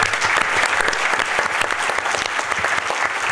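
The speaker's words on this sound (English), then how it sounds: "I think we can thank and applaud the panelists." Loud, close applause from a conference audience thanking the panelists, a dense, even wash of many hands clapping throughout with no talking.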